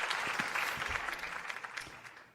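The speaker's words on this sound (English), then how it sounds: "I'm giving you an applause anyway" A small group clapping briefly on a podcast, fairly quiet scattered applause that fades out over a couple of seconds.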